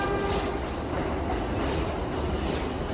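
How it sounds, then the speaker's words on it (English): A train arriving in the video game Animal Company, a steady loud rumble of rolling wagons with a faint clatter, continuous and close, no talk over it. "the train is coming"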